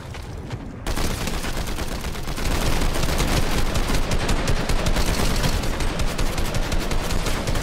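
Rapid automatic gunfire from a Fortnite battle, dense and continuous bursts of shots that grow louder after the first second and keep going steadily to the end, with no talk over them.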